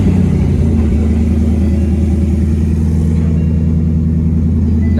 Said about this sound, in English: let's get you guys this cold start.